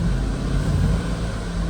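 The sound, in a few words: Car engine revving under delayed throttle input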